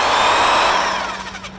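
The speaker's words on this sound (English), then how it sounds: "Power tool time." A power drill whirs loudly and steadily close by, then winds down and trails off near the end, with no one speaking.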